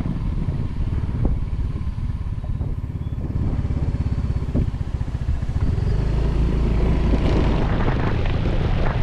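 A motorcycle pushes through deep floodwater deep enough to reach its exhaust, giving a loud, continuous engine drone with sloshing and churning water growing heavier toward the end.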